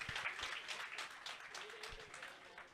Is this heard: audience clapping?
yes